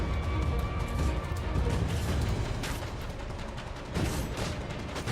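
Repeated gunfire from an enemy in Assassin's Creed 3, loud overlapping shots and booms packed into a continuous barrage with no break.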